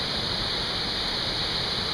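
A waterfall at Blackwater Falls State Park gives a steady, unbroken roar of rushing water, close and even, with no voices.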